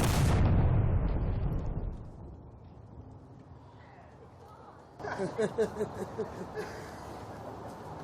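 A gun fires once on command with a loud, booming blast that rolls and decays over a couple of seconds, followed later by voices talking.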